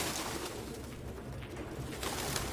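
Pigeons coo in a grimy abandoned apartment in the video game Detroit: Become Human, a soft, steady murmur of calls at moderate level with no talk over it.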